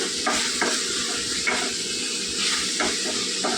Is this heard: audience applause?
no